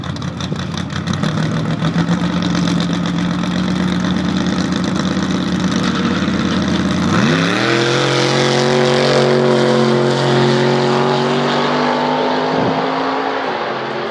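A V8 Opel Manta drag car races a BMW on a drag strip: loud engines drone at a steady idle-like pitch, then surge together with rising revs into a sustained roaring pull.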